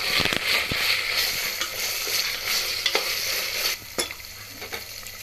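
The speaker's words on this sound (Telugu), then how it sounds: "అల్లం వెల్లుల్లిపాయ పేస్ట్ పచ్చివాసన పోయేదాకా వేయించుకోవాలి" Ginger garlic paste crackles and sizzles in a pan for coconut milk pulao, with a spatula scraping and stirring throughout and a few sharper knocks toward the end.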